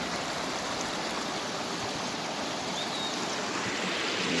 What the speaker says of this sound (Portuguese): cachoeira ali.